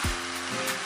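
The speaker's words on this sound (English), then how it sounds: "We are going to mix this until everything is well combined." Chinese-style fried rice being stirred and mixed in a pot, a steady close sizzle with a brief scraping knock at the start and a soft stir sound near the end.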